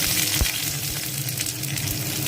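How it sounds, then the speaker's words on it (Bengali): Onion tempering with garlic and black cumin seeds sizzling in hot oil for jute leaf dal, a loud close crackling fry with a few sharp stirring knocks against the pan. "আগে রসুন ফোড়ন কিন্তু বেশ ভালোই লাগে আর দিয়ে দিচ্ছি পেঁয়াজ ফোড়ন"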